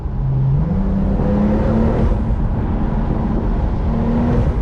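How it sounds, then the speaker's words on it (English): A Porsche 911 Turbo S with a Brabus-tuned 820 hp flat-six engine accelerates, its loud, steady engine roar climbing in pitch as it pulls through the gears, with no talking. "the flat six is an amazing engine. And with the Brabus boost, it makes the drive simply perfect"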